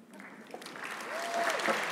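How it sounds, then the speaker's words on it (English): At a college graduation ceremony, the crowd claps for the April 2021 optician cohort in a short, building patter with a voice briefly audible over it. "Big round of applause for the optician cohort, April 2021"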